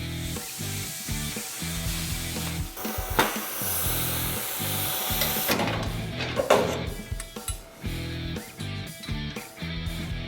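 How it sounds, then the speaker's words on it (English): A plasma cutter set to 22 amps cuts 12-gauge plate steel in a garage, giving a harsh, steady hiss and crackle that rises and falls over about ten seconds, with no talk. "For this thicker material, I turn the plasma up to 22 amps."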